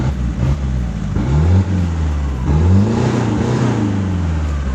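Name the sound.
truck engine revving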